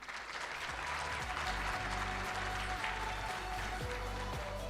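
Steady applause from an audience at a national ICT summit, where an innovation team has just been announced, fills the space evenly for several seconds at moderate distance, with no talk over it.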